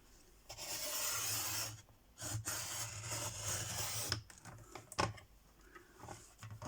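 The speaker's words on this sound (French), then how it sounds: "Nous allons couper à la bonne dimension." Paper being cut to size, close rasping cutting strokes in short bursts with brief pauses and a few sharp snips, no talking.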